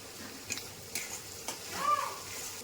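Slit green chillies dropped into hot oil in a pan for tilapia curry, giving a low continuous sizzle with a few sharp taps and clinks of a utensil, close by.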